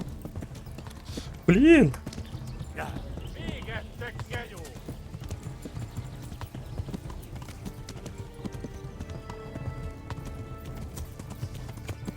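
Horse hooves clip-clop in a steady rhythm in the medieval game Kingdom Come: Deliverance, with a brief whinny early on and someone talking and exclaiming over the gait.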